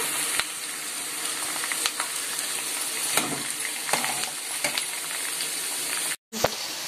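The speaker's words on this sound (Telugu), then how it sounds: "ఉల్లిపాయ ముక్కలు అయితే బాగా ఫ్రై అవ్వాలి ఫ్రెండ్స్" Onion and green chili pieces fry in a pan for a bitter gourd (kakarakaya) fry, making a steady, close hiss of sizzling oil that runs almost unbroken, with a short dropout near the end.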